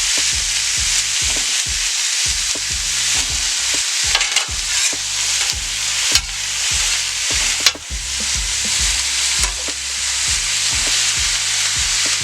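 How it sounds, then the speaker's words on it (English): Thin slices of precooked pastrami warm on a grill with a loud, continuous sizzle close up, punctuated by scraping and tapping from a utensil, no talking. "we're just going to throw them on the grill, individual slices. And we're just going to get this warm."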